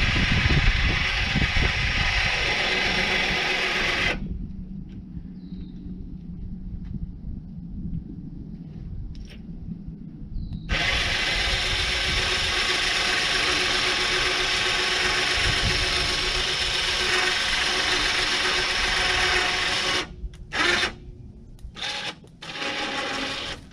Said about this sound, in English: Unhook the winch, pull it out the tree.